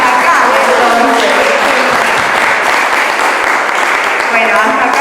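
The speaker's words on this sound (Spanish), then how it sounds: "Yo quiero aplaudir." Class audience in a philosophy lecture breaks into dense, steady applause, loud and close, sustained throughout with voices mixed into the clapping.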